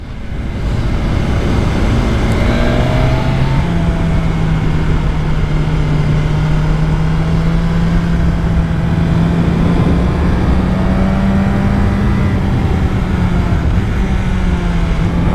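A 2021 BMW S1000RR motorcycle cruises along a road at an easy pace, engine drone steady and close with gradual pitch shifts as revs vary, and constant wind rush throughout.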